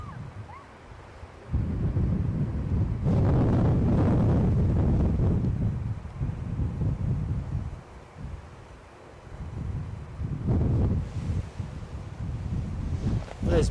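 Heavy wind buffets the microphone at Edinburgh airport, rising into loud roaring gusts that come and go over several seconds, with quieter lulls between them.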